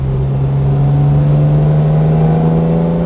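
A restored 1969 Mercedes 280 SL Pagode with a four-speed manual gearbox pulls steadily under acceleration, its engine note holding a constant droning hum heard up close from inside the car, with no voices.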